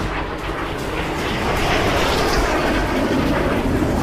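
A Me-163 rocket fighter in flight, a steady loud broadband roar that holds level for about four seconds with no break.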